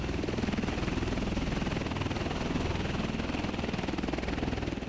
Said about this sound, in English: an MV-22 approaches a KC-1 30J tanker, stabilizes behind the hose, connects its probe to the drogue, and receives fuel in flight.